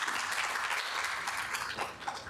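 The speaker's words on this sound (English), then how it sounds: "Can everyone give Rebecca a round of applause?" A lecture audience in a university programming class applauds, a steady dense patter of many hands clapping close by that runs the whole short stretch without any talking.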